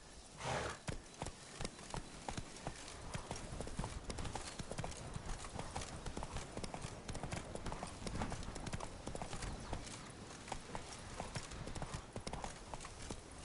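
A horse's hooves clip-clop steadily in The Witcher 3: Blood and Wine, a fast, even rhythm of hoof strikes on the ground that continues without pause throughout.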